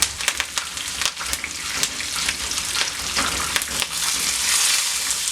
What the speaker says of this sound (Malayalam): എനിക്ക് രണ്ട് ഉള്ളി രണ്ട് മൂന്ന് വറ്റൽ മുളക് അല്പം കറിവേപ്പില ഇവിടെ ചേർത്ത് കൊടുക്കുക